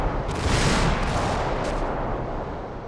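An explosive charge detonates during an airborne platoon's reaction-to-fire training: a loud, close blast followed by a heavy rumbling decay that fades over a few seconds, with no talking.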